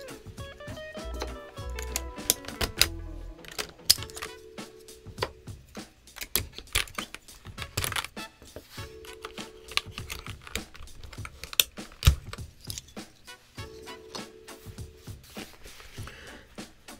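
Keys, including the stabilized larger keys, are pressed on a NuPhy Halo75 mechanical keyboard with medium tactile switches, giving a fast, clattery run of close clicks and thocks with a few rhythmic repeated patterns.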